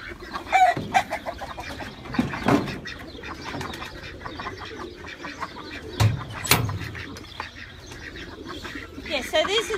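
Backyard chickens and other fowl in a farm setting, with clucking and a rooster crowing that rise and fall through the clip, a couple of louder calls standing out near the middle, and faint voices in the background.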